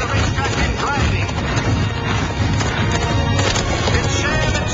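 Secretariat and other racehorses galloping down the stretch of a racetrack, a dense, continuous rumble of hoofbeats mixed with loud crowd noise and talking.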